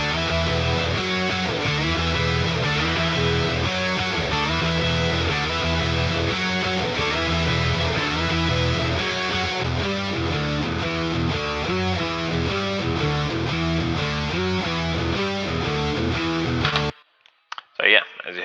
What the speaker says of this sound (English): that's all the guitars with the bass, sounds like this